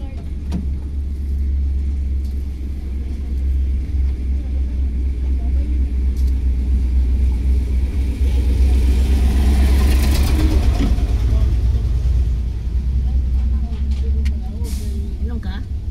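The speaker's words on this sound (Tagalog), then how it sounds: "May sakyanan yan." A vehicle travelling along a rural road, a steady low engine rumble and road noise close by, swelling louder toward the middle, with people talking over it.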